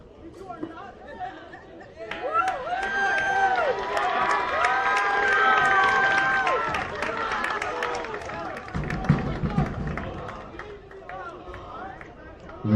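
High school football crowd cheering at a Honeoye Falls-Lima versus Batavia game, loud chatter and shouting building to a sustained roar, with an announcer-style voice and a crowd surge near the end.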